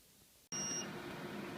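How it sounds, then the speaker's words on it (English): A SCSI RAID card in an NEC Express5800/120Lh server beeps at power-up with its battery module connected, a sudden loud tone that starts abruptly and holds steady over a constant fan whoosh. "It just beeps incessantly like that"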